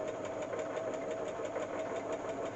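Serger sewing machine stitching an elastic waist, a steady close mechanical whir with fast regular needle pulses and no talk.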